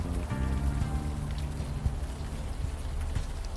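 Steady rain pours down in the video game Unavowed, a dense, even patter of drops close by, continuing without a break, with low musical tones running beneath it.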